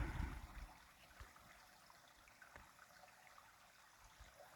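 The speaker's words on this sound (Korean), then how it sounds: "물이 졸졸졸 흐르긴 하지만" Soft trickling of a small, nearly dry mountain stream in a winter forest on the way to Cheonwangbong peak, a faint steady babble with a few low bumps near the start.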